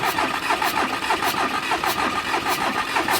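A freshly rebuilt car engine cranks with a rapid, repeating rhythmic chug, loud and close, turning over steadily without catching, with no voices.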